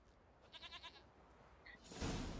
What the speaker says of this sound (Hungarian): Itt van az a kecske.